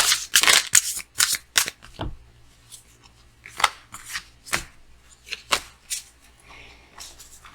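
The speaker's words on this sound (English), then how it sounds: "And I'm going to shuffle once." Playing cards are riffled and snapped in a quick burst, then several sharper individual card flicks follow at irregular intervals, close up.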